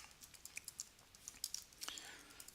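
Keys tap on a computer keyboard while text is typed into an Excel spreadsheet, forming a quiet, quick, irregular clatter of small clicks heard close and faint.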